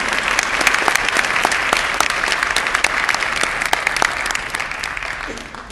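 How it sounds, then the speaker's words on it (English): Audience at an inaugural address in New York's 14th Congressional District bursts into sustained, dense applause with scattered cheers, loud and close, slowly tapering off toward the end. "please give yourselves a round of applause for being here today"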